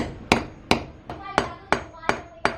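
A dyna bolt is hammered into place with a steady series of seven sharp, ringing hammer strikes, evenly spaced and close, with no talk.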